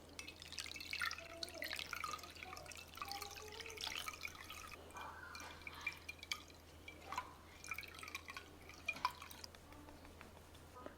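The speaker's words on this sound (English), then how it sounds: "And after, give it a good rinse." Soaked, fully expanded basil seeds being rinsed under running water in a kitchen, with steady splashing and dripping from a tap continuing throughout, moderately close and alone with no talking.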